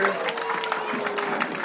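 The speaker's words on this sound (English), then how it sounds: "Let's give them some applause for the win they got." Steady crowd applause with scattered claps and some cheering at a youth 4th/5th grade football championship, fairly loud and continuous, with voices mixed into the crowd noise.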